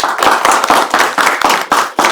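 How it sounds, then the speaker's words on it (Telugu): Steady applause from an audience at a Telugu television chat-show celebration, a dense run of close, loud hand-claps sustained for about two seconds with brief dips in intensity. "Give him a big applause."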